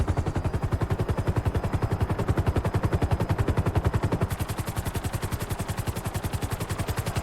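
A military helicopter lifts off in GTA 5 with a Turkish special forces mod. Its rotor gives a loud, steady, rapid chopping throb that holds evenly throughout with no voices.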